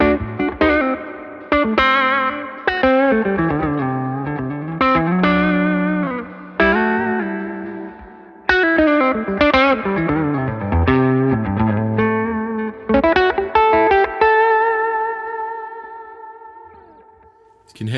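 Distorted Shergold Provocateur electric guitar with a P90 pickup plays chords and bright single-note phrases with rich overtones and effects, loud and close, ringing out at the end.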